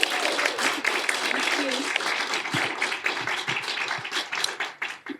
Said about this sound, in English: Can we give these folks a round of applause?